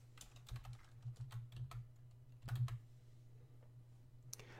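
Quick bursts of keystrokes on a computer keyboard, typing a short city name, soft clicky taps in a few clusters with pauses between, close and faint in a quiet room.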